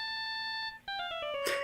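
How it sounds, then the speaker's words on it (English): A cell phone rings in the Phoenix Wright: Justice for All video game, a steady electronic ringtone of repeated tonal beeps that pauses briefly and then resumes at a lower pitch, loud and alone. "All of a sudden the phone began to ring."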